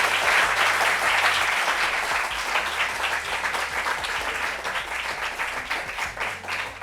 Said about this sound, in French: Mais on applaudit pour lui.